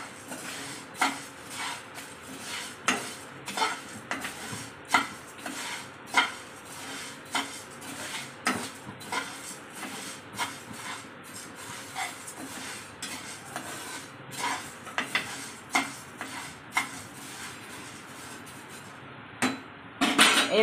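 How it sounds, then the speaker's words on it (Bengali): Red masoor lentils dry-frying in a pan, stirred with a metal spatula: rhythmic scraping and clanking strokes against the pan, close, repeating for about twenty seconds over a faint sizzle, no voices. "ডালটা একটু ভেজে নিচ্ছি।"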